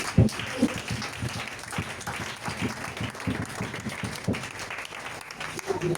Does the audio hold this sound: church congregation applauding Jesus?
yes